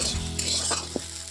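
Ingredients for chicken chowmein sizzle steadily in white oil in a hot pan, a dense continuous hiss with a couple of brief stirring clinks, close and fairly loud.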